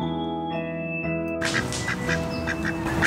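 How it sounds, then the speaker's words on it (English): A mallard duck quacks several times in a quick series. A sustained tonal note comes first and then cuts off abruptly, and the loud, raspy calls follow close by. "Mallard duck."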